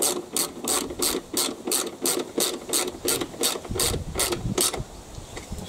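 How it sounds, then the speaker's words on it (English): A hand ratchet tightens drive system bolts, its clicking in steady rapid strokes, close and fairly loud, with no talking over it. "Now that they're in position, I can go ahead and tighten them up."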